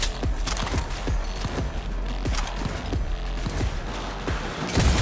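Rapid bursts of gunfire from the video game Cyberpunk 2077, a dense clatter of repeated shots with mechanical clanks, loud and close throughout, with no talking.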